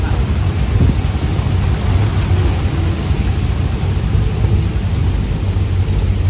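Heavy rain pours down around a car at The Palace during a downpour, a loud, steady, dense hiss with low rumbling thunder beneath it, continuous and unbroken, with no voices.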